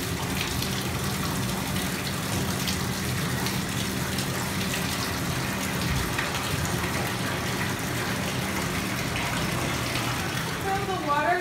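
Water runs steadily from a tap into a sink being filled for dishwashing, a continuous broad gush heard close and evenly loud throughout with a faint voice in the background.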